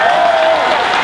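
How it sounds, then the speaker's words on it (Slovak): Loud, sustained applause from a large crowd at an anti-corruption protest march in Slovakia, cheering for the police, steady and dense throughout. "poprosím veľký potlesk pre všetkých policajtov"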